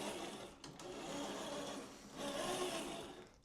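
Small electric motor of an FMS FJ40 1/10 scale RC crawler running: a continuous whirring, gear-driven whine with a slight rise and fall in intensity, faint and close, with no voices.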